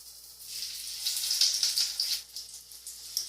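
Creole corn fritters sizzle steadily in a hot oil-filled pan, a continuous bright crackling hiss that swells and dips slightly, close and alone with no voices.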